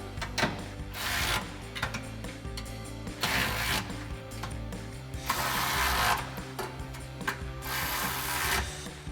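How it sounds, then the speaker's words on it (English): A ratchet with a 13mm socket tightening carriage bolts on a Tacoma bed rack cross member, giving loud, close bursts of rapid mechanical clicking with short pauses between strokes. "we're going to go ahead and grab our 13mm socket on our ratchet for that and tighten these down"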